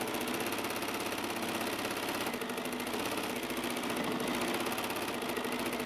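A sewing machine with a stitch regulator runs continuously during free motion quilting, giving a steady, even, rapid mechanical hum and ticking throughout, close by with no talking.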